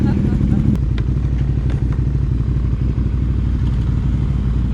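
An ATV quad engine running steadily, a low rumbling drone with faint clatter on top, close and continuous throughout.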